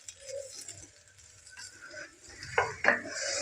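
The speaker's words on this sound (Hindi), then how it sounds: "ये देखें, एक दो दफ़ा इसको हिलाएंगे।" Chicken malai boti stirred in a pan makes faint scraping and a couple of clear metallic clinks near the end, with no talk.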